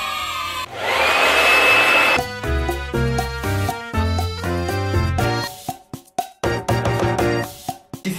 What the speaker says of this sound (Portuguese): isso aqui pra quem não sabe é um secador. Aí você vai e seca o cabelo.